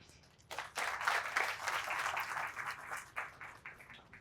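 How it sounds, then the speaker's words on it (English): Audience applause at a primary schools poetry competition in Uganda after a schoolgirl recites her poem, a crowd clapping steadily for about four seconds before tapering off. "Let's clap for her once again."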